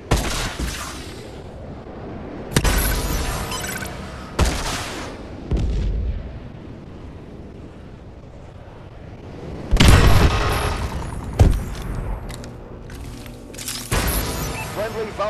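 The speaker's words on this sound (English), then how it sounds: "Friendly missile strikes inbound." Missile strike explosions in the game Call of Duty Advanced Warfare, several loud booming blasts in bursts with rumbling tails, some close together, amid quieter game noise and faint voices.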